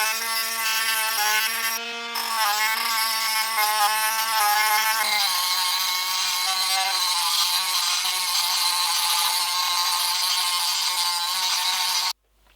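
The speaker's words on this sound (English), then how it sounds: "You have to grind them off with a grinder or something." A grinder works steadily at hardened gear teeth for a DSG ladder gear, a continuous loud whining tone whose pitch drops slightly partway through, running without pause for about twelve seconds before cutting off.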